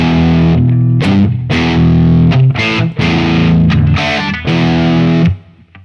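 Heavily distorted electric guitar riff, played with high-output PAF pickups through a Marshall amp, loud and driving with rhythmic chord stabs and short gaps, then fading at the end.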